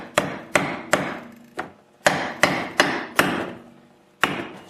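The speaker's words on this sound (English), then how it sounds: "Just put a piece of hardwood over top your bushing and then pound it in." A hardwood block being pounded with a hammer to drive a bushing into place, giving eight sharp, loud, evenly spaced knocks with a short pause before the last one.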